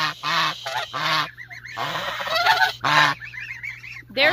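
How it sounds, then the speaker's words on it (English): Toulouse geese on a ranch honk loudly and close by, a series of harsh repeated calls in short bursts with brief gaps, several birds overlapping. "there's new geese right there. Those are Toulouse."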